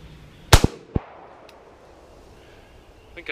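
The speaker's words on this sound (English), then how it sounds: "See if I can shoot any better of a group on this same silhouette style target here." Beretta 92 pistol fired at a silhouette target 15 yards away: a loud sharp shot with a quick echo, then a second fainter shot a moment later, with quiet room tone between.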